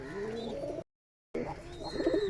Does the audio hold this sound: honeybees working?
no